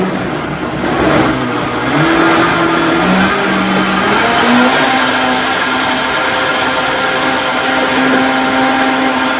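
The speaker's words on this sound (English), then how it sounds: "we're just going to smooth it, or blend it until it's nice and smooth" A blender whirs loudly and steadily while blending a mixture until smooth, its motor pitch shifting up and down as the load changes. The noise is close and goes on without a break, with no talking over it.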